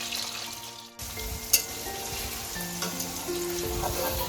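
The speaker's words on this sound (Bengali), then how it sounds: "পনিরটা আমি দুই তিনে ধরে নেড়ে ভেজে নিয়েছি।" Paneer fries in hot oil in a pan while it is stirred, making a steady, close crackling sizzle. The sizzle swells after a brief dip near the start and carries on to the end.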